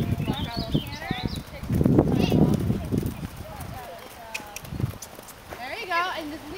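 Horse cantering during a riding lesson, with rhythmic hoofbeats thudding close by while an instructor talks over them.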